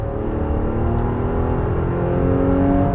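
A 2022 Nissan Pathfinder accelerating hard in sport mode on an open road, its engine droning loud and steady with a rising whir, heard from inside the cabin.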